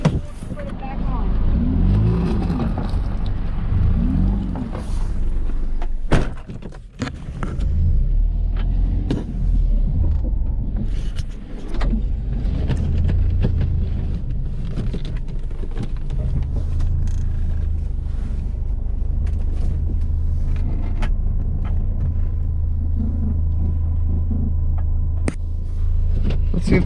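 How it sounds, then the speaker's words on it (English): A Mazda RX8's rear wheel makes a bad noise while driving: a steady, loud low rumble of the moving car runs throughout, with scattered knocks and muffled voices now and then. "That don't sound good. It sounds like the rear wheel's gonna fall off."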